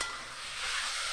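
Spices and vegetables, including brinjal, stirred in a hot pan for a spicy fish curry, a steady close sizzle with soft scraping of the stirring, no voices.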